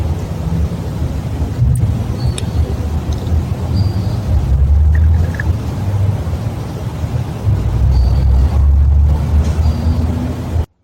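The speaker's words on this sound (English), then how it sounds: "You hear how this truck is driving by?" A heavy vehicle rumbles past nearby, a loud, steady low roar that swells and fades over several seconds.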